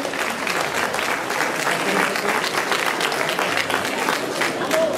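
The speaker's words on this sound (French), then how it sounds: "Alors on applaudit très fort Charlotte" An awards ceremony crowd applauds a prize winner, a continuous, even wash of many hands clapping at a steady level, with voices mingling underneath.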